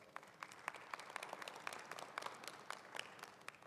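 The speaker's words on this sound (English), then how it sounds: "Let's give them all a big round of applause." A commencement audience claps for retiring faculty, giving a steady round of applause with distinct individual claps, moderately distant and without talk.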